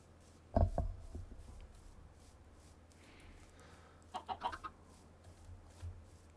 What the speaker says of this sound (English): Got some chickens roaming around